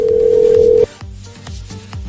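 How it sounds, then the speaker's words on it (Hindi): A telephone rings with a loud, steady electronic tone that stops abruptly, then a phone line picks up with faint clicks and low background sounds in a Hindi audio story. "काफी घंटी बजने के बाद आखिरकार किसी ने फोन उठाया।"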